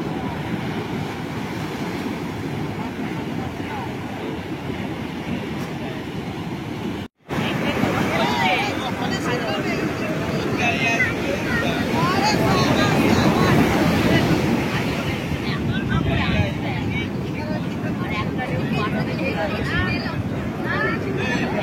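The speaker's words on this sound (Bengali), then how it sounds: "এখনও ঢেউয়ের ধাক্কা সেই ছোট ডিঙিটাকে বারবার দেখিয়ে দিচ্ছে" Sea waves surge and break around a small fishing boat off Puri, a loud continuous roar that swells midway, with a voice talking over part of it.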